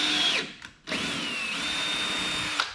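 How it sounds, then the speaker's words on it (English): A power drill whines as it bores into a door, running in two sustained bursts split by a short pause, the motor pitch sliding as the bit loads and frees, close and loud with no talking. "grab the drill, and center on hole"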